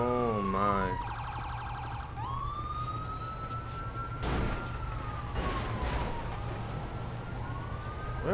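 Police sirens wail and sweep continuously in a video game street scene, steady and fairly loud with rising and falling tones and no talk over them.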